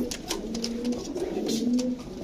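Pigeons cooing at a pigeon sale, several soft low repeated coos close by over a steady background, with faint murmur.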